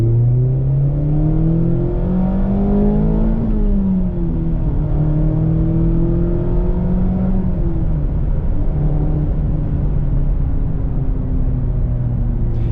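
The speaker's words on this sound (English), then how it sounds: "let's go ahead and do a pull in this car. Let's start in 2nd gear and see how it accelerates." A 2022 Mazda Miata RF engine accelerates hard from second gear, a rising droning rev heard from inside the car, dipping briefly at a shift before climbing again, loud and steady with no talk.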